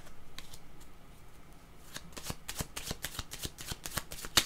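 A deck of cards is shuffled for a card reading, soft riffling at first building into a quick series of crisp, close flicks and snaps with no talking.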